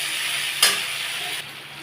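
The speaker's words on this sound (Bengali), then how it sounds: "আমি এটাকে একটু ভাজা ভাজা করব যতক্ষণ না টমেটোগুলো একটু গলে যাচ্ছে।" Tomatoes fry in a pan for a Bengali fish curry, giving a steady close sizzle with a brief louder burst of hiss partway through, as if stirred, then settling back to a softer fry.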